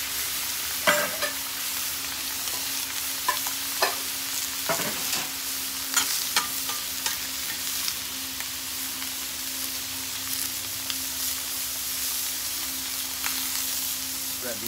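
Onions, peppers and mushrooms fry in butter on a skillet, a continuous sizzle punctuated by repeated spatula scrapes and taps, close and moderately loud with no voices.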